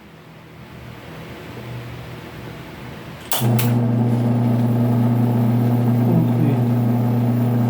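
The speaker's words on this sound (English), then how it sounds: "I push this push button din to start the motor" A push-button switch clicks twice and an electric motor starts, settling into a loud, steady hum that runs continuously after a quieter background; a voice briefly speaks before the start.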